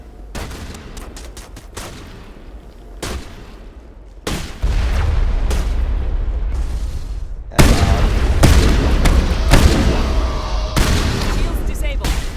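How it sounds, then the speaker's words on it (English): Sustained gunfire and booming explosions in a firefight in the video game Mass Effect 1, loud and dense, with bursts cutting in and out and intensifying toward the end. "Manovai is under coordinated crossfire."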